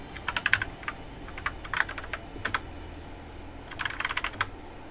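Keys on a computer keyboard clatter in quick bursts of typing with short pauses between them, fairly close, over a low steady room hum.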